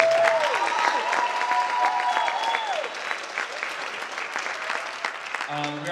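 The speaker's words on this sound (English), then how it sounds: "give them a round of applause" An audience at a Wekiva High School orchestra concert applauds loudly, the dense clapping running the whole way while a voice and a few brief tones ring out over it.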